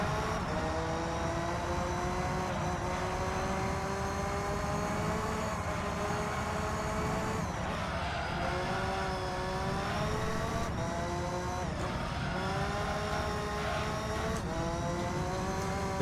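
A race car engine in a driving game revs high and continuously on a track, with pitch climbing and dropping through gear shifts, loud and close with no talk.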